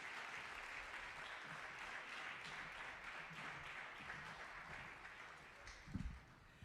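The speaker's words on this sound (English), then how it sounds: "Clap it up, clap it up, clap it up." Steady applause from an audience at a remembrance event, a dense, even wash of clapping held for several seconds at moderate distance, with a brief louder knock near the end.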